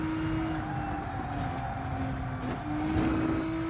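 A racing car engine in Gran Turismo Sport drones at steady high revs with a sustained tonal whine, then dips briefly and climbs again as the throttle shifts; no one talks.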